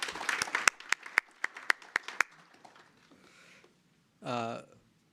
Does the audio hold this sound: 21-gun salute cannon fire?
no